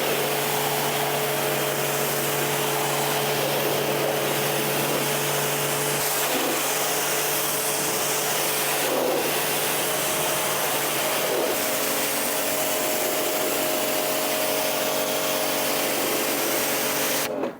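Water sprays steadily over ceramic-coated car panels during a rinse, a loud, continuous hiss with a motor hum from the pressure washer underneath, shifting slightly as the spray moves.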